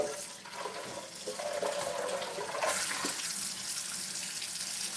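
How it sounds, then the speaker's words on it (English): Water gurgling and rushing as it drains from a sink, close and fairly quiet, swelling briefly partway through. "All the water drains."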